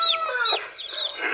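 Newly hatched chicks and free-range chickens peep close by in quick, high chirps, several overlapping calls packed into a brief burst with no talking.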